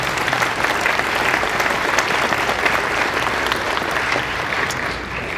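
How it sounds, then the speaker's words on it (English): An audience at the opening ceremonies of the Anthro Northwest 2024 convention claps for its volunteers, a dense, sustained round of applause that holds steady for several seconds before easing slightly. "Please join me in a round of applause for our volunteers."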